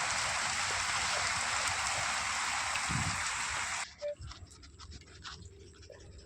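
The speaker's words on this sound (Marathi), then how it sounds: "आज पाऊण तास झालं पाऊस चालू" Dense, steady rain pours with a loud, continuous hiss, then suddenly cuts out, leaving only faint scattered drips and patter.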